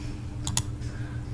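Keys on a computer keyboard clicking as someone types, two quick close taps followed by a faint third, quiet and brief against a low background hum.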